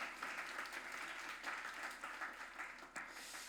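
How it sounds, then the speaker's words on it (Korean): A church congregation applauds, with soft, steady clapping throughout that sounds distant and faint in a large room. "큰 박수 한번 드리도록 하겠습니다."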